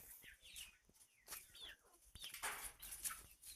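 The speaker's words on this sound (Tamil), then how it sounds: "இது புள்ளிக்கோழி" Guinea fowl on a Tamil farm give faint clucking, chattering calls at a distance, scattered and irregular with light rustling between them.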